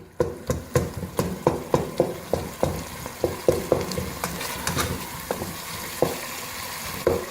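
Pumpkin curry is mashed and fried in a pan over high flame, with regular firm thuds about twice a second over a continuous sizzle, close and alone.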